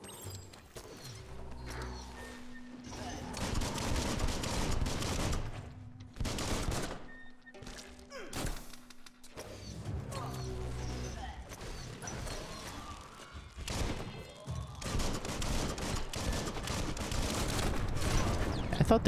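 Gunfire and combat in the PC video game Biomutant, with repeated bursts of shots and crashing impacts layered over game music and effects for most of the span, while a person talks over it.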